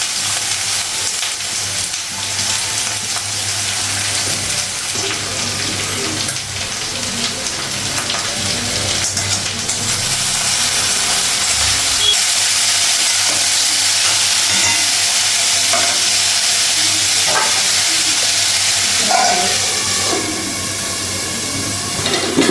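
Potatoes frying in a pan in a home kitchen, with a loud, close, continuous sizzle and crackle like rain and occasional stirring or scraping, with no talking.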